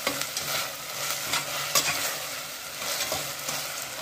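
Tomatoes sautéing in a pan for rice dal masala kichadi: a steady close sizzle runs throughout, with soft stirring scrapes scattered across it and no voices.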